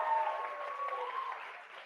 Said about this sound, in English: we're going to give a big round of applause to Neelam